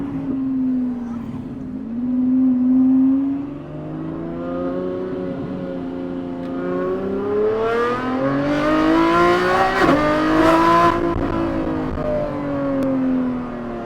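Lamborghini Revuelto with a RYFT HYPR exhaust roaring loud and close, engine pitch swooping up and down through revs and downshifts with sharp crackles near the peak.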